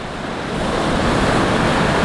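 Sea waves crash and roar continuously onto a shore, loud and close, with a steady rushing wash and some wind buffeting the microphone; no voices.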